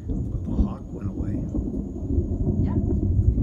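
Thunder from an afternoon thunderstorm with a shelf cloud rolls as a continuous low rumble, loud and fairly close, and persists through the whole stretch, with faint voices in the background.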